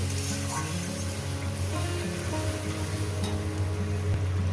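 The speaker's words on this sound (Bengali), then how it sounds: "পেঁয়াজটাও ভাজা ভাজা হয়ে যাবে আর মশলাটাও কষানো হয়ে যাবে" Onion and spices frying with yogurt in a pan of oil for a fish curry, a steady close sizzle with faint stirring over a low hum, continuous and even throughout.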